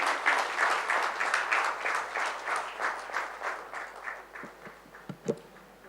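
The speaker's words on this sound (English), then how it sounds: "Big round of applause for Dr. Chetan." Audience applause at a bravery awards ceremony in a Chennai hotel ballroom, a dense sustained wash of many hands clapping that gradually thins and fades, ending with a few scattered louder claps.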